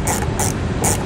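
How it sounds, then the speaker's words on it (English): A ratchet turns a Torx head bolt with a T25 bit at the bottom corner where a vehicle's wheel well liner meets the fascia, giving three quick, close clicking bursts at a steady rhythm. "We're going to take the Torx head bolt off the bottom corner where our wheel well liner meets our fascia"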